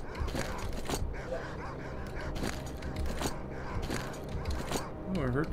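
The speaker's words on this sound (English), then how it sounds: "I think the dogs are gonna give me trouble today." Dogs in the S.T.A.L.K.E.R. Call of Pripyat video game bark and yip in repeated bursts with whimpers, while a player talks over the gameplay audio.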